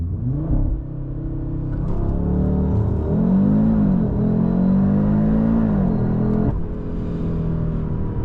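An Audi RS3 in RS performance mode with traction control off launches hard in a 0–100 test, the engine roaring up through the revs with a brief shift dip, loud and close from the cabin, no talk.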